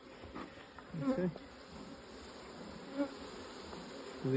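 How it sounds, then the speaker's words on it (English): Honey bees buzzing around an open beehive while the brood box is checked, a soft steady hum close by with a few louder passing buzzes, faint and alone. "So these bees are a lot darker."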